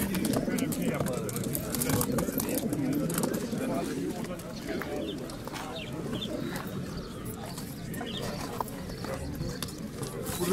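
Pigeons coo in a busy, crowded setting, a steady murmur of birds mixed with nearby voices and general market bustle at the Edirnekapı bird market in Istanbul.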